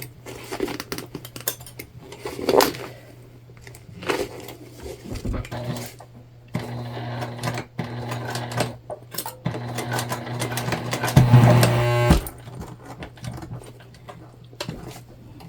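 A sewing machine works on a multi-panel tote bag in short, uneven runs mixed with handling clatter and rustling, with a steady low hum underneath.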